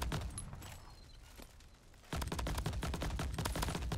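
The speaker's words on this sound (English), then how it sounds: "New sniper craft sound." Rapid gunfire from the new sniper in the Crab Champions video game, quieter bursts at first, then a dense loud volley of repeated shots in the second half.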